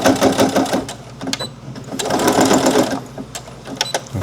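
A sewing machine stitching fabric for flea market goods, running in a steady, continuous mechanical whir with brief pauses and clicks, loud and close.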